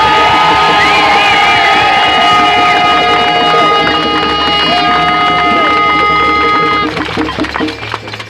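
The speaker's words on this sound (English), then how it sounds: "one more huge cheer for Kirkintilloch Miners Welfare" A large crowd cheers and whoops loudly for Kirkintilloch Miners Welfare at a day-of-action rally, with sustained shouting, whistles and children's voices that ease slightly toward the end.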